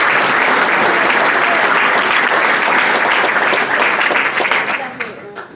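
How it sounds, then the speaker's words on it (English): Loud, dense applause from a St Patrick's Day dinner audience honoring Jim, a veteran, sustained at full strength before tapering off near the end. "So Jim, we give you a big round of applause."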